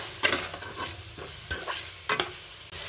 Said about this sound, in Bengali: তার সাথে দিয়ে দিলাম আলু, দিয়ে এভাবে আমি নাড়তে থাকবো।